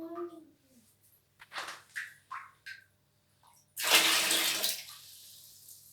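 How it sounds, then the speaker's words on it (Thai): A child scoops water to rinse the mouth after brushing teeth, with soft splashes and spits followed by a louder gush of water lasting about a second, and voices faintly at the start. "ตักน้ำมาบ้วนปากด้วย"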